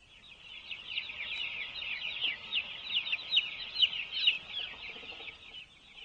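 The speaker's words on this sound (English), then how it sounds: "The life of a broiler chicken" Broiler chickens at a commercial poultry farm cluck and chatter continuously as a dense flock, a steady overlapping murmur of calls that swells and dips slightly without any talking.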